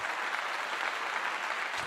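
A short, uniform burst of dense applause, a steady hiss of many claps blending together at low volume with no single hit standing out.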